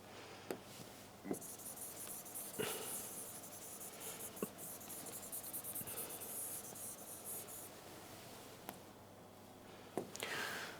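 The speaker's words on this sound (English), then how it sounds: "I just need to erase this." An eraser rubs writing off a board in a quiet room, with soft scrubbing strokes and a few sharp taps across the span.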